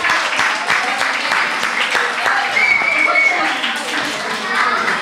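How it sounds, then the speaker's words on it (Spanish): A church gathering for a Mother's Day special in Japan applauds the youths and children, with lively, sustained clapping close by and voices, including children, audible underneath. "Aplauso para los jóvenes,"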